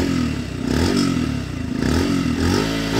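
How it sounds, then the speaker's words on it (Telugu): A 2025 Yamaha FZ-S v4.0 non-hybrid motorcycle's engine hums steadily close by through its exhaust, swelling and easing in gentle revs with a dense mechanical rumble and no talk over it. "ఇక్కడ ఎగ్జాస్ట్ సౌండ్ అయితే మీకు ఒకసారి వినిపిస్తాను"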